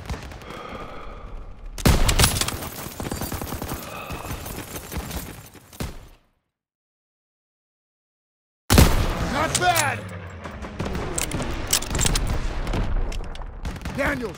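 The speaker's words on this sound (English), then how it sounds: "Aiello and Zussman need covering fire." Covering gunfire in the World War II shooter Call of Duty: WWII, dense automatic bursts and scattered shots in two loud stretches split by a few seconds of dead silence, with voices shouting over the battle.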